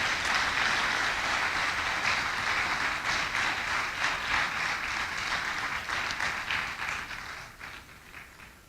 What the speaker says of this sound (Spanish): Dele un aplauso fuerte a Dios,